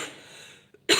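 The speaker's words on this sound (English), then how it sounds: "I have to have a bit of a cough after I've done each question" A single short cough bursts out close to the microphone after a soft, fading background hiss.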